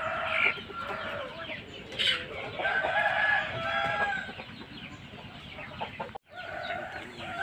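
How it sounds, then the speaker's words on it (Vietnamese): Chickens cluck and a rooster crows inside chicken coops for young birds on a farm, a loud, continuous flock chatter close by with no talk. "Đây là mấy chuồng gà con. Gà nuôi tập theo đợt."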